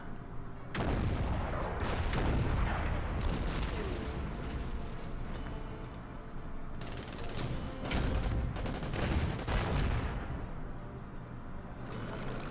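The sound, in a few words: artillery fire in the video game Order of Battle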